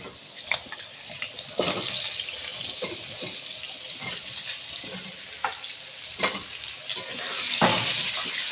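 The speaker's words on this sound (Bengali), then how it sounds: "পটল আলুটা লাল লাল করে ভেজে নেব" Pointed gourd and potatoes fry in oil, a steady sizzle broken by scrapes and stirring clatters, close by and fairly loud.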